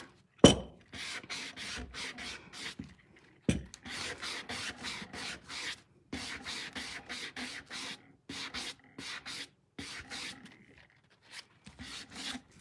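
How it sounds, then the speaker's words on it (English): A sanding block works in the groove of a wooden salt and pepper mill, giving close, dry rasping strokes in quick repeated bursts separated by short pauses, with a couple of sharp knocks. "I've just got the corner of my sanding block kind of run in that groove"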